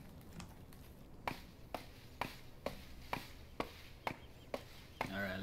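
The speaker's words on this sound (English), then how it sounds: "Alright, let's keep on chopping." Regular chopping strikes at trees in the video game Don't Starve Together, about ten crisp thwacks spaced roughly half a second apart, moderately loud over a low ambient background, with no talking.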